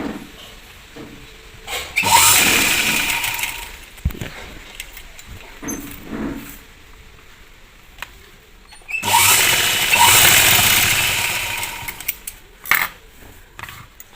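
A sewing machine stitches a frock in two whirring bursts of a few seconds each, loud and close, separated by quieter handling noises, with no talking.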